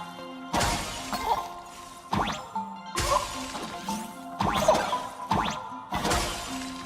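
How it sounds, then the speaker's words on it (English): Ice shattering effects in the video game Peak: a series of sharp crashing breaks, about five bursts with glassy tinkling tails, spaced roughly a second apart and loud in the foreground. "The ice shattering is very satisfying."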